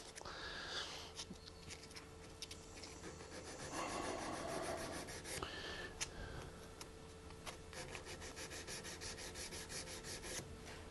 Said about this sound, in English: it's a bit hard with the Dremel to tell how much material you're removing